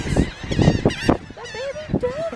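Geese honk loudly and repeatedly near a pond with ducks, a close cluster of harsh, nasal calls in quick succession with a few rising squawks toward the end.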